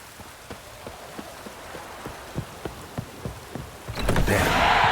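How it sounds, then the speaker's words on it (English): Steady rain hisses in The Witcher 3: Wild Hunt, with soft, evenly spaced thuds underneath. A heavier rushing downpour swells up in the final second. "Looks like rain."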